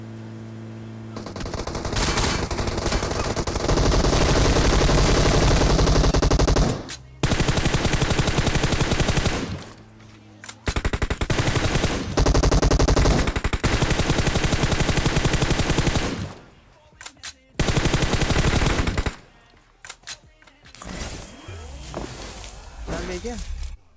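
Loud, sustained automatic gunfire in PUBG Mobile rattles in long bursts separated by brief pauses, with chaotic game noise around it.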